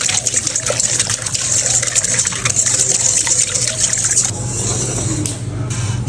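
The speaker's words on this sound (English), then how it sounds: "We're gonna stir this vigorously." A yeast and water mixture with a teaspoon of salt being stirred vigorously in a bowl, a continuous close wet sloshing and swirling that softens slightly toward the end.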